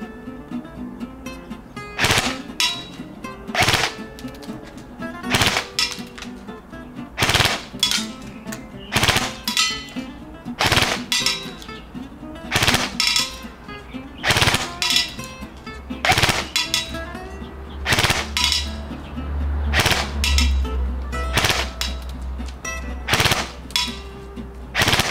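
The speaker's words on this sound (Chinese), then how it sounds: "我们来连发一下哈，大概 三连发、四连发的哈" A repaired KWA airsoft gun fires repeated short full-auto bursts of three or four shots at an outdoor 30-metre range, each burst a sharp rattling clatter separated by brief pauses.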